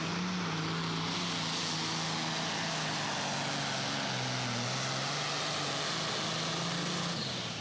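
Pulling tractor from Pro Pulling at Hillsboro, Wisconsin, the Slama Enterprise machine, roaring loud and steady down the track, its engine note climbing and dipping in a dense continuous drone.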